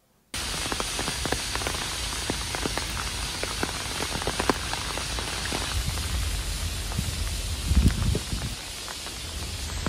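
Steady rain patters on a surface, a dense continuous hiss with scattered sharper drops throughout.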